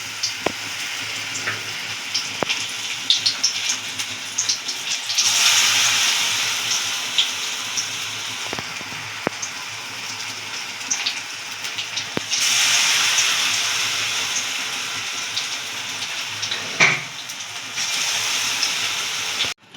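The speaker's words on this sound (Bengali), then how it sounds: "এটাকে আমরা একটা ভেজে নেব আস্তে আস্তে মিডিয়াম আঁচে রেখে" Onion fritters in gram flour batter spiced with chilli, salt, turmeric and nigella fry slowly in oil over medium heat. They give a steady, fairly loud sizzling hiss with a few faint clicks, and no one talks.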